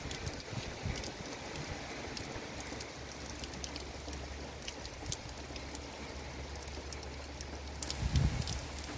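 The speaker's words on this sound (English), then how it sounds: "The rain is here. It finally came. It's raining properly." Steady rain falls on a village garden, a soft even patter and hiss with scattered drops that grows slightly heavier near the end, and no one speaks.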